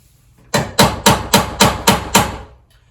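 Seven sharp, evenly spaced taps from a small ball-peen hammer ring out in a quick steady rhythm, close and clear against near silence.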